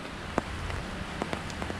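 Steady rain hisses across a surface, with a few sharper drops tapping nearby over a constant low rumble.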